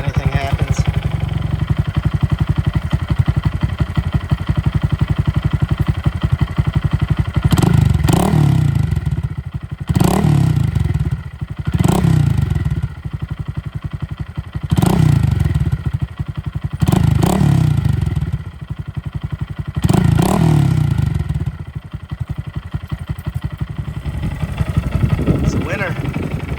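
A 2022 Honda Grom motorcycle with an aftermarket Amazon exhaust warms up, idling steadily and close by, with a run of evenly spaced revs and thumps through the middle stretch.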